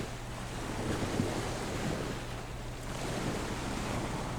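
Ocean waves rolling onto the shore, a continuous broad wash of surf with soft wind noise, steady and moderately distant with no voices.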